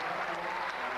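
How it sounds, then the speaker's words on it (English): Brief, steady applause from an appreciative Nebraska crowd at a men's NCAA gymnastics championship meet, following a routine that ends in a double layout dismount, a dense wash of clapping heard from within the arena. "a very appreciative Nebraska crowd here applauding the efforts of Chris Waller"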